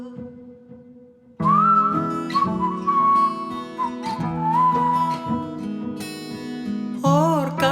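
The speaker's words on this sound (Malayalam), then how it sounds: "ഓർക്കാതെ ഞാൻ ചൂളം കുത്തണതെന്താവോ" Whistling in a Malayalam song: a clear, melodic whistled line runs over music after a quiet start, wavering through sustained notes and ending in a quick trill.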